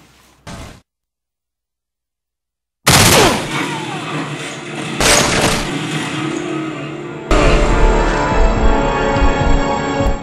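Gunfire in the Bulletstorm video game on Hard mode: loud bursts of rapid automatic shots in two stretches, broken by a short gap of silence, with explosive cracks and clattering debris and no talk over them.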